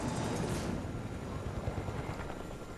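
A helicopter in the video game Fortnite makes a steady low rotor thrum with a broad whooshing rumble, close and continuous without a break.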